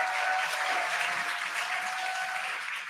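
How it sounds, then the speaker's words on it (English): Excited crowd at a viewing site cheering and clapping as the Crew 9 Dragon Freedom capsule descends under drogues toward splashdown, a steady dense roar of applause with a faint tone running beneath. "You can hear the crowd here."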